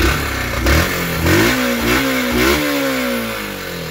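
Yamaha YBR 125 motorcycle single-cylinder engine, recently serviced at the valves, blips through several quick sharp revs, each rising and falling in pitch, then settles into a loud close-up idle rumble with no talk.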